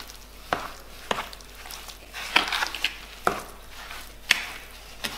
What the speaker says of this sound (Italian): Andiamo a mescolare.